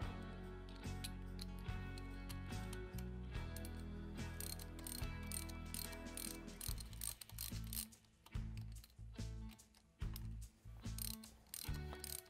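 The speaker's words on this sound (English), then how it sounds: "now that they're broke free, I think I'll switch to a short ratchet" A short ratchet clicks rapidly while loosening already broken-free bolts on an 883cc Harley-Davidson Sportster engine. The close, crisp ticking runs in repeated bursts with brief pauses between strokes.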